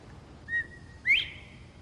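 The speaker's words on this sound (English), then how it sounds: "or quail, is one of the easiest birds to imitate because it always says its name" A northern bobwhite quail gives its two-note whistle, a soft level note followed by a louder sharply rising one, clear against quiet outdoor background with no talk.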